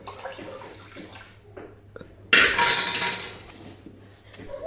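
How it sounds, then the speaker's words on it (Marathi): Water poured into a pot of Maharashtrian amti lentil curry during home cooking for a puran poli meal: a sudden close splashing gush that tapers off over about a second and a half after quieter kitchen clinks. "वरून थोडंसं पाणीही टाकूया कारण शिजल्यानंतर आमटी घट्ट होऊ शकते"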